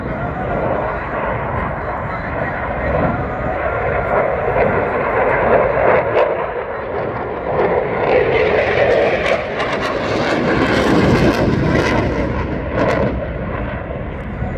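A Eurofighter Typhoon jet performs at the RIAT 2022 air show, its engine roaring loudly and steadily with swelling intensity, while a commentator speaks over the noise.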